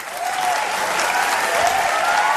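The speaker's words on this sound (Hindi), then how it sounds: "इनके लिए भी जोरदार तालियां।" Dense, steady applause from a television comedy show's studio audience, loud and continuous throughout with no talk over it.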